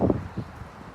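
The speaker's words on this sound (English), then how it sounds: "It's a little windy right now, obviously" Wind gusts buffet the microphone outdoors at a campsite while a tent is being set up, a low rushing roar with a brief swell partway through.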